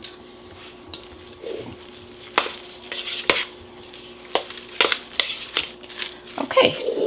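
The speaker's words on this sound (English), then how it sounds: "So I'm going to start stirring this, and then we are going to add our other ingredient." A spoon stirring a thick chicken fritter mixture with cheese in a bowl, giving irregular scraping and squelching strokes with clinks against the dish, close and fairly loud over a low steady hum.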